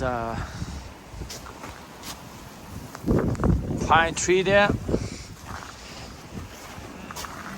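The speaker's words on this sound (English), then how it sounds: "can you hear that? The noise from the wind." Wind gusts roar across the microphone outdoors beside a garden koi pond on a freezing winter day, a continuous rushing buffet that swells midway, with someone talking over it.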